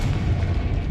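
A Confringo blast spell goes off in the Hogwarts Legacy video game, a dense, low booming rumble that fills the whole second at steady loudness, with no voices over it.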